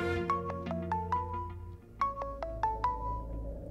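A melodic phone ringtone plays two matching phrases of bright electronic tones, clear and fairly close, with no voices.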